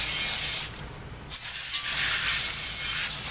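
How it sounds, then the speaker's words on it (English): Brake cleaner sprayed from an aerosol can onto a 2013 Smart ForTwo brake rotor: a loud, close, continuous hiss that briefly drops off and then resumes in steady bursts. "spray it off a little bit with the brake cleaner"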